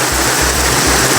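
Heavy water pouring down in a loud, continuous rushing roar, like a downpour or cascade close by, with a low pulsing rumble beneath.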